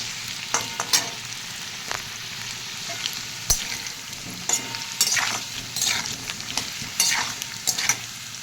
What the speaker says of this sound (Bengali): এই দেখো আলুগুলো আস্তে আস্তে লাল লাল করে ভাজা হয়ে গেছে।